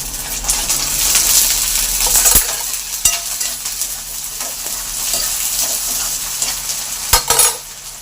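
Potatoes and onions sizzle and fry in a pan while a utensil stirs and scrapes through them, with a few sharp clinks against the metal; steady, close and continuous, no talking.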